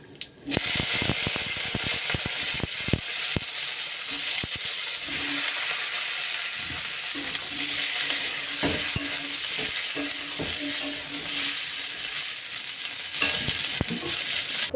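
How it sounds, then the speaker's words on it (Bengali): Cauliflower fries in hot oil with dried red chilli and nigella seeds, making a loud, steady sizzle. It is broken by spatula scrapes and stirring knocks, with a brief quiet start. "ফুলকপি ভাজা আমার হয়ে গেছে"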